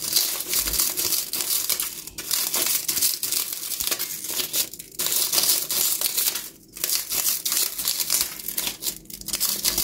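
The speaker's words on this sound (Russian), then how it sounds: "Порежем ножницами, чтобы лучше было." Scissors cut through a stack of three gelatin sheets during home cooking, giving a steady crisp crinkling and snipping that runs continuously with short pauses between strokes.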